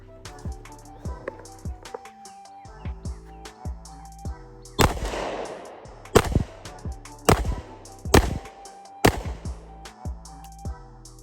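A Canik MC9 pistol fires at an outdoor range, with five or six loud, sharp reports spaced about a second apart. Several quieter clicks and knocks come before the shots.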